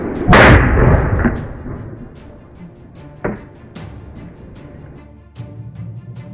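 A firecracker bursts a water bottle, slowed down: one loud, deep boom at the start, then scattered pops and crackles that fade into a low rumble.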